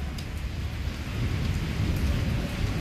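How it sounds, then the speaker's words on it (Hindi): Heavy rain pours steadily in Islamabad, a dense close roar of drops with low rumbling thunder underneath, continuous throughout. "थंडरिंग की आवाज़ आप सुन रहे होंगे जी"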